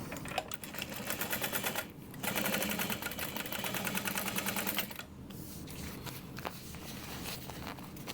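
A sewing machine top stitching a fabric bag runs in a steady mechanical whir with a fast rhythmic tapping, pausing briefly twice before carrying on, close and fairly quiet.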